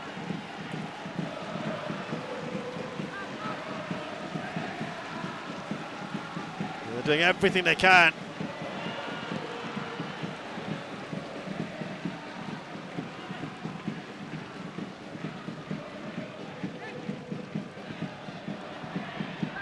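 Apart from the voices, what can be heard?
football crowd at Jalan Besar Stadium, fans singing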